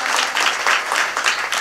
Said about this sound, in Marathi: त्या जोरदार टाळ्या वाजवा।